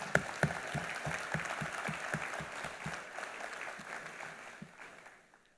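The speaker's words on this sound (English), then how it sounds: "they deserve a very warm applause to acknowledge their efforts" An audience at an International Civil Aviation Organization event gives warm applause, with a few sharp claps up front and a broad crowd sound that fades gradually to silence.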